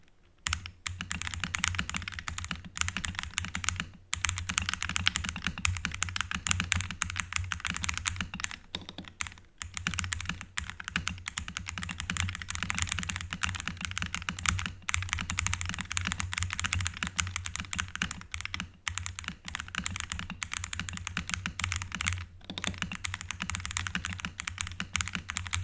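Steady, fast typing on a Wooting computer keyboard in a streamer's setup, close and continuous for the whole stretch with a few short pauses and no talking.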